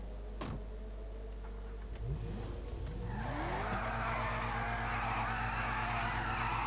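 Car in the video game GTA 5 revving and accelerating with short tire squeals, its engine note climbing in repeated sweeps before settling into a loud, steady roar, with no talking.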